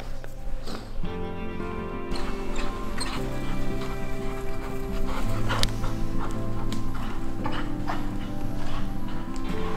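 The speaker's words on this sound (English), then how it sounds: "there's all around us are dogs barking" Hunting dogs bark during a driven wild boar hunt in snowy Swedish woodland, several dogs yelping and baying continuously at varying distances over a busy, steady outdoor background.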